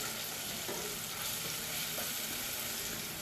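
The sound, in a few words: stirring bay leaves and cumin seeds frying in a pan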